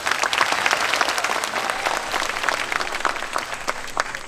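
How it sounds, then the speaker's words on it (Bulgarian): An audience at a tribute concert in Plovdiv claps steadily as a performer is introduced. The applause is dense and continuous, with sharp individual claps standing out. "Аплодисменти!"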